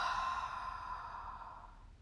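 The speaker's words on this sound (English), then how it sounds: "Fog a mirror with your exhale" One long, forceful breathy exhale, the kind used to fog a mirror, taken during an abs and core bracing exercise, close and fading out over about two seconds.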